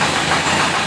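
A Kawasaki ZX-14 motorcycle starter cranks the engine, giving a steady mechanical churn with a low knocking vibration that runs unbroken for under a second. It is close and fairly loud, with no voices.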